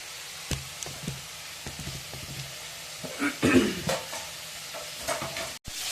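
Tomatoes dropped into a hot pan for a brinjal-tomato pachadi, with a soft sizzle under scattered spoon scrapes and stirring knocks, a louder burst of frying midway, close and fairly quiet.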